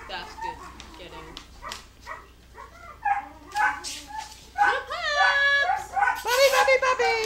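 Several puppies yip, bark and whimper close by in short bursts, rising into high, drawn-out whines and overlapping yelps toward the end, with people talking faintly in the room.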